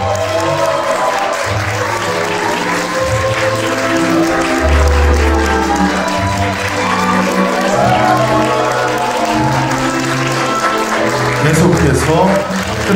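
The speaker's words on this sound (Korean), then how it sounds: "여러분 축하의 박수와 함성 부탁드립니다" Wedding hall guests clap and cheer steadily as the bride enters, a dense continuous applause with music and voices running underneath the whole time.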